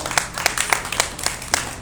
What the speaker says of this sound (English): round of applause for all that you did